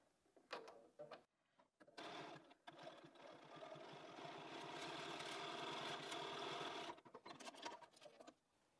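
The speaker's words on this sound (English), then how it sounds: "Let's sew onto that bit again." Sewing machine stitching fabric for a quilt block, a steady close whirring run of several seconds between short starts and stops, with no talking over it.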